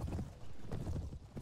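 A horse gallops in the medieval combat game Mount & Blade: Warband, its rapid hoofbeats drumming steadily and close throughout, with no talk over them.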